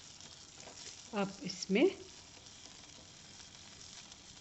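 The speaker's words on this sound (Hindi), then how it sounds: "कुछ करी पत्ते और थोड़े से मूंगफली के दाने डालकर उन्हें तल लें।" Curry leaves and peanuts dropped into hot oil for leftover idli upma, giving a quiet background sizzle with two brief louder crackling bursts midway, while a voice speaks briefly.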